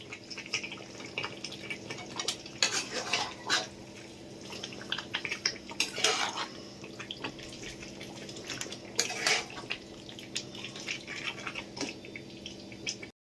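Chicken with fried onion and tomato paste stir-fried in a pan: a steady run of close scraping and clattering spatula strokes over a soft hiss, irregular and moderately loud, with no talking.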